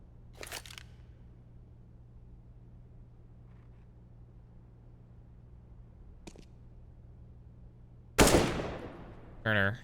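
Gunfire in the video game CS:GO, a sharp shot at the start and a faint one mid-way, then a loud close burst near the end followed by a ringing tone, all over a low steady hum.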